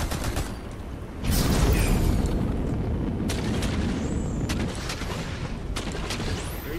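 Bursts of gunfire in a ranked competitive video game, a loud sustained barrage with scattered sharper shots through the rest, no talking.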